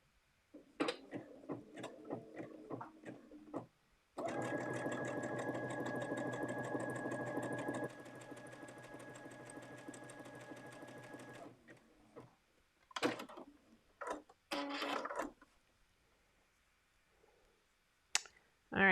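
A sewing machine joins fabric pieces together, whirring steadily for about seven seconds, with someone talking before and after the run.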